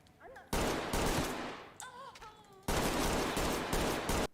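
Bursts of gunfire in the tactical shooter Ready or Not, two long loud barrages of rapid shots separated by a quieter gap with a brief tonal voice-like sound in between.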